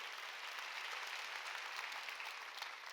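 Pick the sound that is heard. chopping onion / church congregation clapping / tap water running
church congregation clapping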